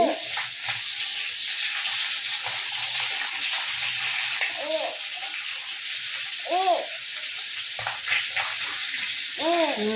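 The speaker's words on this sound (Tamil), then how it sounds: "பக்கம் மீன் நல்லா பொரிஞ்சிருச்சு." Steady, loud sizzling hiss of fish frying in hot oil, continuous throughout, with a few faint clinks and pops.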